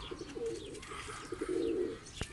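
A Hungarian blue pigeon coos in soft low rolling phrases, two drawn-out coo sequences close by and fairly quiet, with a faint chirp and a brief knock near the end.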